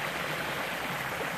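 A steady, broadband rush of falling water from a waterfall in Killarney Provincial Park, an even hiss heard from a moderate distance with no voices over it.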